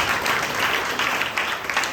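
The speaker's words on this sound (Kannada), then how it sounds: "ಚಪ್ಪಾಳೆ ತಟ್ಟಿ" An audience claps in a church during a live youth meeting, a dense burst of applause that stays fairly even over a couple of seconds.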